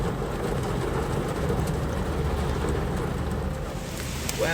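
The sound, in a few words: waterfall and rain-swollen stream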